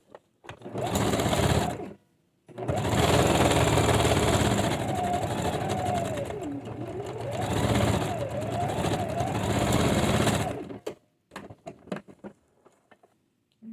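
Domestic sewing machine stitching fabric binding onto a quilted mug mat, heard up close in bursts: a short run, a pause, then a long steady whirring stretch with some speed changes, then scattered short stitches and clicks toward the end.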